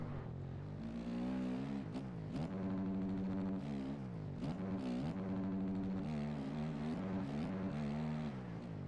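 Simulated KTM dirt bike engine in the MX Bikes racing game, a continuous loud buzzing drone that rises and falls with repeated throttle changes and gear shifts around a track, with no talking.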